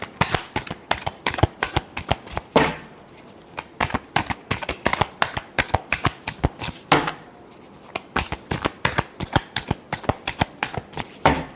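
Tarot cards being shuffled in a steady run of crisp, rapid riffling clicks, with short pauses between bursts and no talking.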